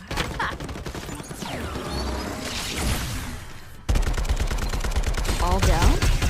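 Rapid automatic gunfire from the video game Farlight 84, loud bursts of shots in sustained volleys with close weapon sounds and game effects.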